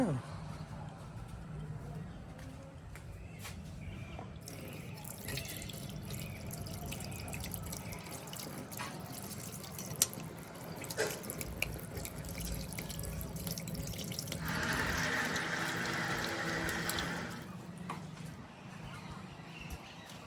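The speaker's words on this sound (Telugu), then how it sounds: "దానిలో నీళ్లు కొంచెం పోస్తే" Water runs and trickles into a container in a home kitchen, a steady splashing stream with drips, while people talk over it.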